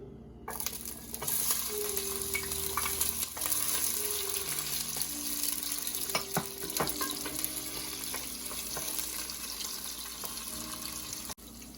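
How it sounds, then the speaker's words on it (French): Onions sautéing in a pan for a salted-fish okra dish, a steady close sizzle with occasional stirring scrapes and clinks, running continuously with no talk. "Je fais revenir mes oignons pendant 5 à 10 minutes, juste pour lui donner le temps de dorer un tout petit peu."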